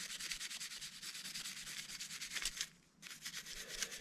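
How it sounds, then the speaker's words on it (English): An AR-15 bolt carrier group being scrubbed with a cleaning brush: rapid, even back-and-forth bristle strokes, close and soft, with one brief pause before the scrubbing resumes, no talk. "I'm going to kind of just scrub everything with a cleaning brush"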